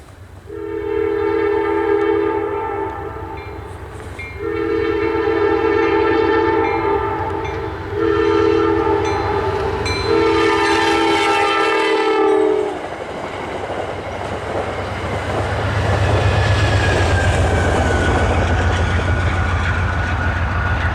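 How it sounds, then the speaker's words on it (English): Amtrak 690 passenger train bound for Boston on the former Pan Am Railways line sounds several long horn blasts in a repeating pattern, then rumbles past close by with loud, steady wheel and rail noise. "We start our morning with Amtrak 690 heading to Boston."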